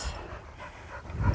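Dogs pant quickly and rhythmically on a lead during a warm countryside walk through fields, close and soft, with a brief louder rustle at the end.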